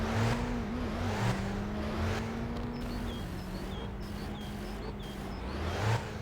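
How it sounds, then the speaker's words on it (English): A car driving in the game My Winter Car, a steady low engine hum with slight pitch shifts as it cruises, fairly quiet and continuous, with faint high chirps above and no voices. "The cars aren't like aggressively loud,"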